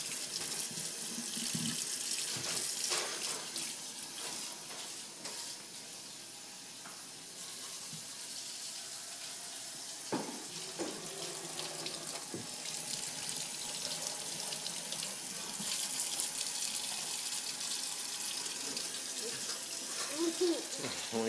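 Tap water runs steadily into a sink during handwashing, a continuous hiss and splash lasting throughout, with occasional clatters and brief voices underneath.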